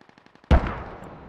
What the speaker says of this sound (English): Artillery strike coming down a radio station.